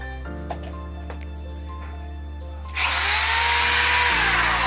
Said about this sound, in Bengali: দেখেন, মেশিনটির খুব একটি স্মুথ সাউন্ড।